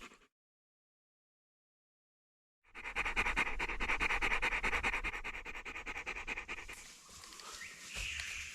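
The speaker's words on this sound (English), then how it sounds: "that left dogs and Hunter suitably knackered" After a moment of silence, dogs pant hard and rapidly nearby, quick rhythmic breaths continuing steadily with some rustling toward the end.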